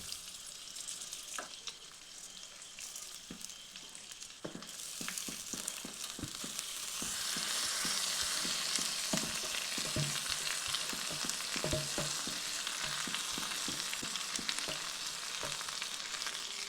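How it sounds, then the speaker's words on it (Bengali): Rice for Basanti pulao fries in hot oil in a pan, a steady close sizzle that thickens partway through, broken by frequent scraping knocks of a spatula stirring the grains, with no talking. "চালটি ভেজে নিচ্ছি যতক্ষণ না ঝুরঝুরে হচ্ছে ততক্ষণ পর্যন্ত।"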